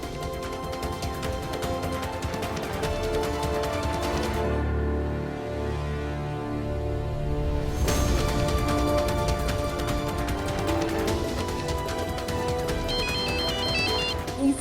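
A mobile phone ringtone plays on and on unanswered, a loud melodic repeating tune with a short dip partway before the ringing carries on, heard alone without talk.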